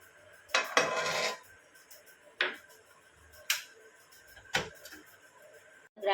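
A kadai set down on a gas stove and ghee added, heard as several sharp metallic clanks and scrapes spaced a second or so apart over a quiet kitchen background.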